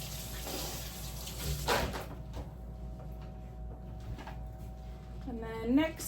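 Water runs from a kitchen tap as hands are rinsed while baking cranberry cream cheese rolls, a soft, close, steady splash with a few faint knocks and a brief voice-like sound near the end.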